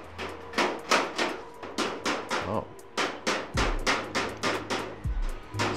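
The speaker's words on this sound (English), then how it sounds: "Sorry about the construction noise." Repeated hammer blows from nearby construction work ring out in a steady, fairly loud rhythm at a fortress site in Veliko Tarnovo, with a brief spoken exclamation among them.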